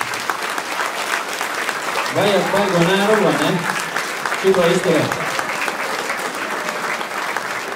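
Audience applause breaks out at a children's school theatre performance of The Little Witch, a sustained clatter of clapping heard under a voice, with sung or hummed tones cutting in over it.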